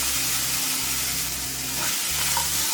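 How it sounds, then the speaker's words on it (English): Vegetables sauté over medium heat in a medium-sized pan with a loud, steady sizzle and soft stirring scrapes, with a low hum beneath and no talking. "I'm going to saute my veggies"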